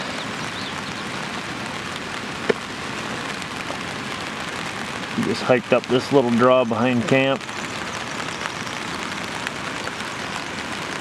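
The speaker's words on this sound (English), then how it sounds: "the rain's been pretty steady" Steady rain falls outdoors in the Alaskan backcountry on a cool day, a dense unbroken hiss that runs throughout. Someone speaks briefly in the middle over the constant patter.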